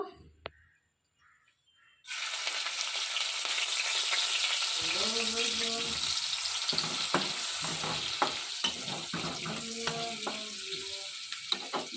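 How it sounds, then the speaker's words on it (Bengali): Onions frying in oil in a pan until golden brown for a chicken roast, a loud, steady sizzle that starts abruptly after two seconds of near silence and carries on with occasional stirring clinks and scrapes. "ভালো করে আমি পেঁয়াজটাকে ভেজে নেব।"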